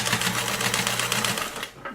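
A sewing machine stitching fabric for a peacock costume runs in a fast, steady mechanical whir up close, then stops near the end.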